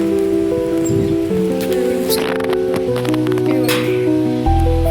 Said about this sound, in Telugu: మా ఊళ్ళో ఫుల్ వర్షం పడుతుంది చూసారా